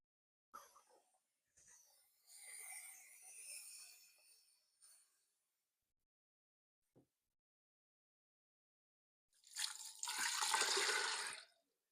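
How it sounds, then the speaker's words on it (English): Tap water runs into an Instant Pot over dried white beans in short bursts, with a longer, louder pour near the end and quiet pauses between. "now we're going to just fill it with water"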